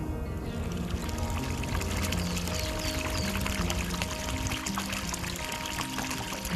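Continuous gentle flowing water by Ansimsa Temple on Guryongsan mountain in Cheongju, Korea, a soft steady wash with faint trickling and scattered high chirps above it, no voices.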